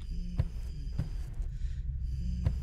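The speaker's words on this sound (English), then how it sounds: "That humming?" Low, droning hum in the Grandma horror game, heard in a dim baby's room, a faint steady murmur with soft rhythmic thumps recurring roughly every half second to second beneath it.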